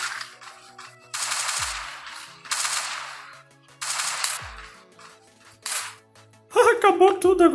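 Gunfire from a weapon in a zombie survival shooter game, heard as several loud bursts with short gaps between them, each ending in a low thump, and a rapid crackling volley at the close.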